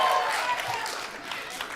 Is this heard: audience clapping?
yes